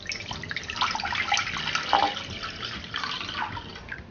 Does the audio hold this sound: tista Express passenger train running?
no